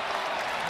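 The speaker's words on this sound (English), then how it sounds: "Big round of applause for number 5" Stadium crowd applauding and cheering at a Clemson Tigers at NC State Wolfpack college football game, a dense, steady wash of clapping and crowd noise throughout the brief moment.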